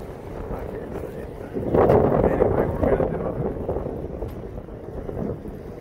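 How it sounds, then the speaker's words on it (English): Strong wind outdoors buffets the microphone with a low, rumbling roar that swells near the middle and then eases into steady gusting. "It's very windy."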